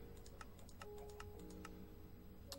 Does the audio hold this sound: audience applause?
no